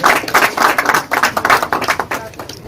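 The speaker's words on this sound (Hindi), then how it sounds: "तालियों से जरा स्वागत करिए।" An audience claps at a public political gathering to welcome a guest, the applause dense and steady with sharp individual hand claps throughout, fairly close and loud, with no talk over it.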